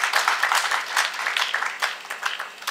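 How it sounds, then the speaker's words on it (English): Dense crowd applause at a gathering, steady and fairly loud for the whole stretch, with clapping merging into a continuous wash and no speech on top. "We must have to applaud the administration."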